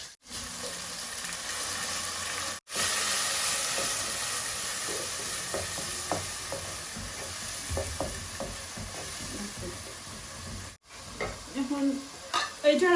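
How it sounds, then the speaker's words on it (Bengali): Green chilies and blended onion hit hot oil in a pan and sizzle loudly, followed by steady frying hiss with scraping stir strokes and a few brief pauses. "কাঁচামরিচ আর ব্লেন্ডার করা পেঁয়াজ দিলাম।"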